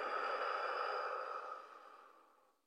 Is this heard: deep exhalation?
yes